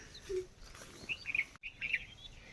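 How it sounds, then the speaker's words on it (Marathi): Sparrows chirp in short, bright bursts near a farmhouse yard, a few quick calls scattered over quiet outdoor background. "चिमण्याचा चिवचिवाट."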